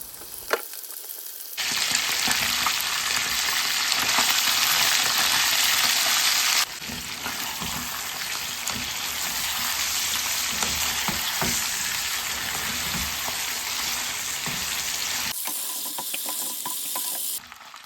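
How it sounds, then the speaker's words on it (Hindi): Loud, dense sizzling of chicken pieces frying in hot oil for white karahi, close up and continuous, with a sudden jump in intensity then a steady crackling hiss until it cuts off. "इस तेल में हम डाल लेंगे अपना सारा का सारा चिकन और उसको फ्राई कर लेंगे"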